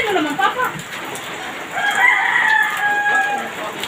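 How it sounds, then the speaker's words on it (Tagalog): A rooster crows at a flooded home, its long call rising clearly over steady rain, with chickens nearby and the drawn-out cry ringing out at moderate distance. "Mga manok."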